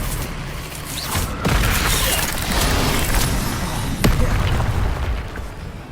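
Spell-casting effects from the video game Hogwarts Legacy: a loud, continuous run of booming, crackling magical blasts, with sharp snapping cracks standing out now and then.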